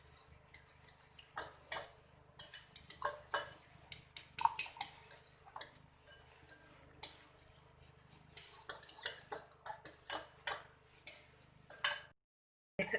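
A spoon clinks and scrapes around a bowl while tikka masala marinade is mixed for a roast mutton leg, giving irregular clattering strokes at close range with no talking.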